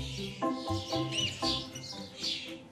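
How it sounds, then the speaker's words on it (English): Faint high chirps from oystercatcher chicks repeat in quick bursts, with a soft low background murmur underneath. "It's two weeks since the oystercatcher chicks Scuttle and Grimsby arrived at the centre"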